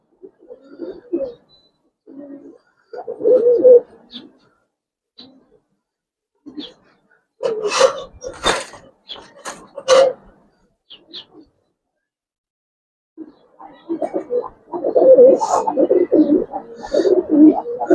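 Giribaz pigeons coo in short, soft bursts repeated through the stretch, close by, with a few sharper calls and a denser stretch of cooing near the end; voices mix in at times.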